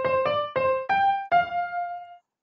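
A programmed synth tone plays the Happy Birthday melody, five clean notes with the last one held and then stopping, heard alone.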